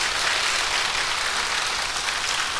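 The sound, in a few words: audience applause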